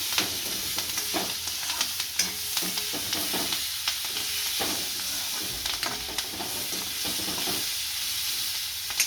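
Green chillies fry in hot oil with cumin seeds, giving a continuous loud sizzle and hiss, broken by occasional scraping stirs.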